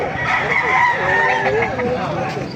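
A gamefowl rooster crowing at a busy market, one loud, drawn-out crow close by with a wavering tone, set against crowd murmur and nearby voices.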